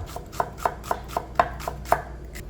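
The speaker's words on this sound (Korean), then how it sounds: "양파는 곱게 다져줄게요." A kitchen knife finely chopping onion on a cutting board while cooking finger foods, about eight crisp, evenly spaced taps close to the mic, with no talking.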